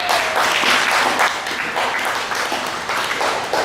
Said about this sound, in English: Do give him a big round of applause.